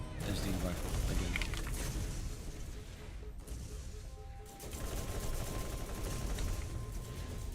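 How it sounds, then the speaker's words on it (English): Rifle gunfire in Borderlands, dense rapid bursts of shots with a short lull in the middle before firing resumes, loud and continuous. "There's the rifle again."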